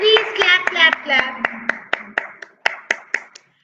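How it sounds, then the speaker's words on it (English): Children clapping hands during an online playgroup class, a dozen sharp separate claps in a loose rhythm, close and clear, with a voice chanting along at first. "Clap for yourself, please. Clap, clap, clap."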